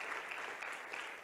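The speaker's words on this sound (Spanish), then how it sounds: "Denle un aplauso a Oscarito, por favor," Faint, steady applause from a church conference audience, a dense wash of hand claps heard alone with no talking.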